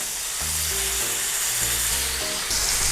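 Pork chops fry in a pan of olive and canola oil, giving a loud, steady sizzle throughout, with low tonal hums and clanks from the stovetop or utensils underneath.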